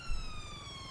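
Fire engine siren in the video game GTA 5 with UK mods, a steady electronic wail holding high tones, heard briefly and fairly faint over low rumble.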